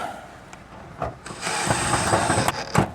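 A screw is driven in by hand during a sewer hose storage installation, a close, quiet grinding and rubbing with a few knocks and ratchet-like clicks that builds into a steadier scrape.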